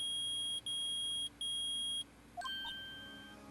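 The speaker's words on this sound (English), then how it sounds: "It's beeping. The metal detector's found something." Electronic metal detector in the Phoenix Wright: Ace Attorney video game, beeping loudly in three steady long tones, followed by a few short chiming blips as the beeping stops.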